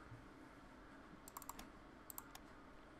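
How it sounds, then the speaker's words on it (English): Quiet computer mouse clicks come from close to the microphone during a Hearts of Iron III strategy game session, with a few sharp clicks in small clusters over faint background hiss. "my mouse is quite close to the microphone, so you probably can hear my clicks."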